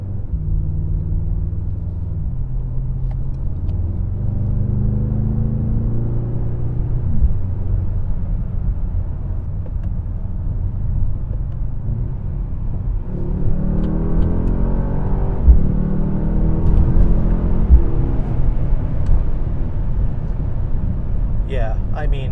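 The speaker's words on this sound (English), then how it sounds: "when you put the vehicle into its Sport Plus mode, the AMG exhaust does come alive" A deep, rumbling 2024 Mercedes-AMG GLS 63 SUV exhaust in Sport Plus mode drones steadily, swelling louder toward the end, with a voice talking over it throughout.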